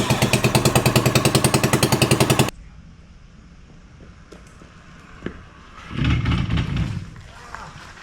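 A 1974 Kawasaki G4 100 motorcycle engine fires up and runs loud and close with a rapid two-stroke pulsing for a couple of seconds, then cuts out, leaving faint clinks and a brief low revving burst afterward.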